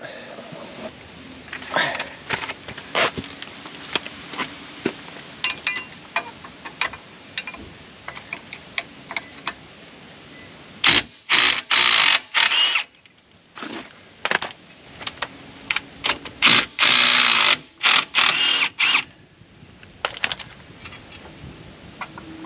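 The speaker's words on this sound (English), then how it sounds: "now we're just going to take off those the bolts that hold the strut housing" Ratchet clicking in bursts while removing strut housing bolts on a 2019+ Mercedes Sprinter van, with louder rapid clatter near the middle and end over a steady background hum.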